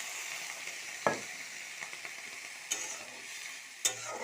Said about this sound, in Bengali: এটাকে এইভাবে একটু নাড়াচাড়া করে তারপরে অল্প একটু জল দিয়ে সিদ্ধ করে নিতে হবে।